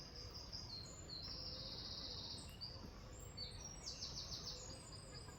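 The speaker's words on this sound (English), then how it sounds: "Where the birds today are very, very loud." Birds chirp and sing in high, overlapping calls against a soft, steady woodland background hum, fairly distant, in a small wooded area near Padstow; no one speaks.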